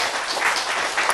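A brief burst of audience applause at a health lecture, a dense even patter of clapping at fairly close range.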